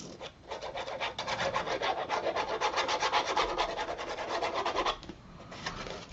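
A burnishing tool rubs steadily along a score line on craft paper, making a close, continuous scraping rasp with a fast, even back-and-forth rhythm that lasts about five seconds, then a brief pause and a short final stroke.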